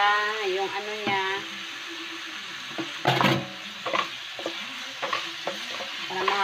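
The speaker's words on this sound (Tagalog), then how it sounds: "Haluin muna natin ang karni" Meat and onions sizzle in a frying pan while being stirred, with scraping and clattering stirs breaking through a steady frying hiss; a voice is heard briefly near the start.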